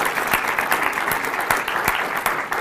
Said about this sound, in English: Let's give them a round of applause for being here and feeding us today.